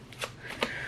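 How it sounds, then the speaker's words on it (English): A deck of playing cards gets a quick shuffle, a brief papery riffle with a couple of soft flutters in under a second, close and quiet. "we're gonna give them a good shuffle"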